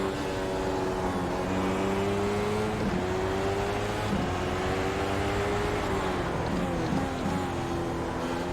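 A McLaren MP4-30 Formula 1 car in the iRacing sim game, at Catalunya on cold tyres, revs steadily in a continuous engine drone, its pitch climbing and dipping with brief shifts, fairly quiet and unbroken.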